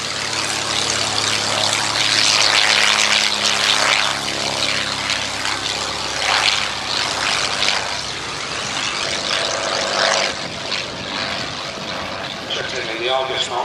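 A Fairchild Argus III light aircraft with an inline Ranger engine drones steadily from a propeller, heard outdoors at Old Warden while someone talks over it.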